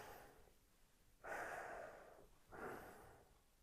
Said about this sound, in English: So if I was just to breathe like I normally breathe walking about